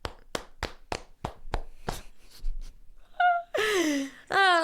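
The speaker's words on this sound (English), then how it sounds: "Round of applause, everybody." A short burst of hand claps from a small group, sharp and fairly close, fading out before a couple of loud, breathy vocal exclamations cut in at the end.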